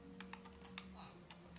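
Soft typing on a computer keyboard, a handful of light, scattered key clicks, quiet against a low steady hum.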